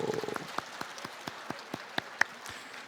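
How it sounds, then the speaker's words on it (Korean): A church congregation applauds vigorously during a Sunday service, with a soft wash of clapping and a steady beat of sharper individual claps at moderate distance. "먼저 힘차게 박수해 주시고"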